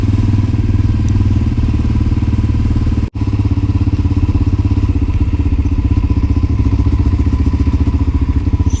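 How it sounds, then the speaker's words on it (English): A 1988 Honda Dominator motorcycle runs at a steady pace, its loud, close engine drone carrying a faint whining tone. A brief dropout occurs about three seconds in. "So I just noticed some strange whining noise."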